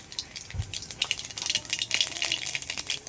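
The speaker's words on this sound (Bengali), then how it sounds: "এবার তেলের মধ্যে ফোড়নে দিয়ে দিচ্ছি কালো জিরে।" Black cumin seeds fry in hot oil left over from frying potatoes, giving a close, busy crackling sizzle of many quick pops with a soft clunk near the start.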